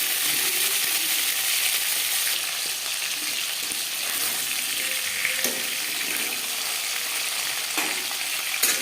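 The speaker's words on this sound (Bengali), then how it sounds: "অপর সাইডটা উল্টে দেবো। আমি একটু হালকা করেই ভেজে নেব" Pieces of shol fish fry in hot oil in a pan, a steady bright sizzle running throughout with a few small clinks of utensils, no voices.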